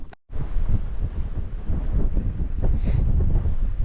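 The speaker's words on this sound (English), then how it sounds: "it's quite windy actually" Strong wind buffets the microphone on an exposed hilltop above Gordale Scar, a loud, continuous low roar with gusting surges that runs the whole way, and no voices over it.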